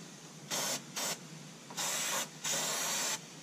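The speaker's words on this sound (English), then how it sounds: "spray it with lubrication from the top into the holes that you can see that will allow the grommets to loosen up" Lubricant sprayed from above into the airbox grommet holes during camshaft sensor work on a Mountaineer comes as four short, sharp hissing bursts from an aerosol can, close up with brief pauses between, and no talk.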